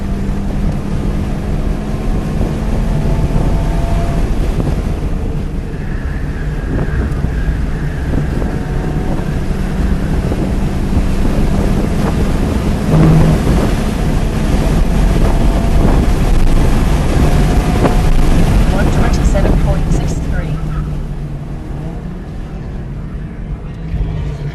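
A race car at full throttle on a 1.7-mile counterclockwise track, heard from inside the cabin as a loud, steady engine drone with climbing pitch, wrapped in heavy wind roar.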